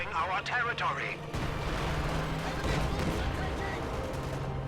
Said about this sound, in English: Counter barrage going off on something.